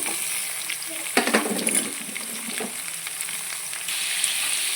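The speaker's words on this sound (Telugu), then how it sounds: "ఇప్పుడైతే గుమ్మడికాయ ముక్కలను అయితే వేసేసుకోవాలి" Pumpkin pieces dropped into a pan of softened onions for gummadikaya dappalam, giving a burst of stirring and scraping around the one-second mark over a steady close frying sizzle that continues throughout.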